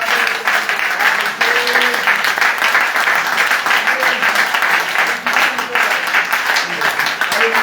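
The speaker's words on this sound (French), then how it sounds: "est-ce que tu peux acclamer le Seigneur?" A church congregation at a worship service applauds and cheers in praise, sustained loud clapping from a large crowd with voices calling out over it throughout.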